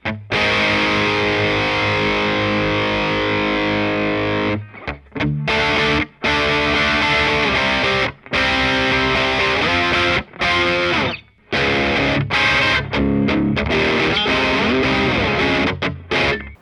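Heavy rhythm electric guitar riffs through a small amp and overdrive pedal with modest gain, loud and thick, pounding out distorted chords broken by short choppy rests and stops, played close without any talking.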